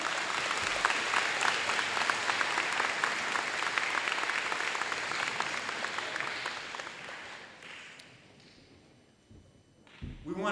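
An audience at a scholars event applauds for employees in a sustained round of dense clapping that fades away toward the end, with a voice coming in over the top afterward.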